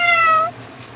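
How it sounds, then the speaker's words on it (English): A cat meows once, close and loud, a clear tonal call lasting about half a second and then fading into quiet room noise, heard at a KFC restaurant with no talking. "Is that a cat?"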